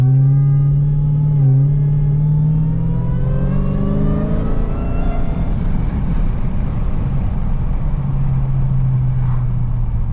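A Dodge Hellcat fitted with a Corsa performance air intake accelerates hard, its deep engine note rising from a loud close rumble into a climbing roar, then settling back to a low drone.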